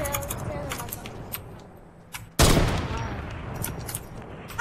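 Video game gunfire bursts out suddenly halfway through, a loud rapid volley following quieter scattered shots and game sounds.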